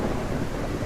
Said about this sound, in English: so there are weather effects in the game. Started raining